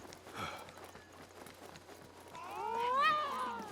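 Cats meow in the video game Assassin's Creed Mirage, a rising and falling drawn-out cry close by near the end, over a low steady background hum.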